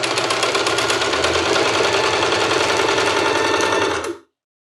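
A sewing machine stitches a straight seam through fabric, its rapid needle ticking running steady and loud for about four seconds before stopping abruptly.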